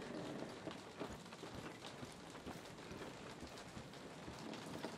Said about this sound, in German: Und es regnet hier, genauso wie draußen tatsächlich auch.